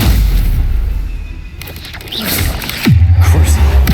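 An explosive Confringo spell is cast in Hogwarts Legacy, a whooshing build-up ending in a heavy, close boom and rumbling impact near the end.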